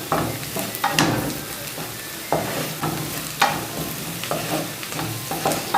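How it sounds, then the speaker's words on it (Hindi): Gram flour (besan) fries with onions in a pan under a constant sizzle, broken by repeated scraping stir strokes at an uneven rhythm. The sound is close and there is no talk. "बेसन को प्याज के साथ थोड़ी देर हम भूनेंगे।"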